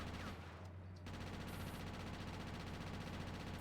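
Continuous SMG fire in GTA Chinatown Wars, a fast, unbroken rattle of shots running throughout, quiet and buzzy over a low steady hum.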